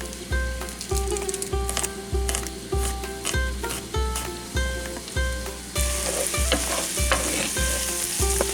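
Onions and celery sizzle in a pan for a 1950s cheesy broccoli and rice dish, with a steady close-up frying hiss broken by regular rhythmic scraping thumps of stirring, about one every half second.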